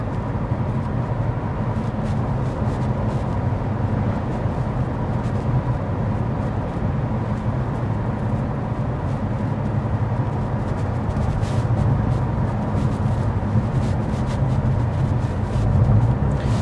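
Steady low road and tire rumble inside a 2024 Toyota Camry cruising at 55 mph with the fan on its lowest setting, a constant broadband hum with no talking.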